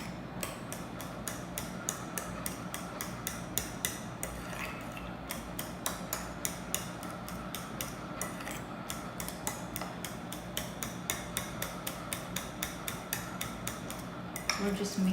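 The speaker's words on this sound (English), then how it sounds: "We're just mixing the wet ingredients, okay?" Wet baking ingredients are mixed in a bowl late at night, giving a rapid, continuous clatter of a utensil knocking against the bowl with a fairly even rhythm and brief pauses, close and moderately loud.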